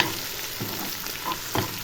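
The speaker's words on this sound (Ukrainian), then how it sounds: "Поставила став, ой, поставила смажити цибулю." Onion fries in a pan with a steady close sizzle, broken by a few soft stirring scrapes over a couple of seconds.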